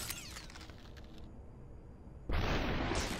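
Gunfire in the video game Superhot: a low rumbling game soundscape, then a sudden loud burst that holds steady to the end.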